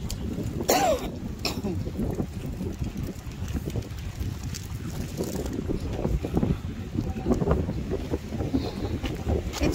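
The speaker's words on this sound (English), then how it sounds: "It's windy." Gusty wind buffets the microphone on Lorne fishing pier, a constant low rumble with stronger bursts throughout, close and fairly loud, with faint indistinct voices underneath.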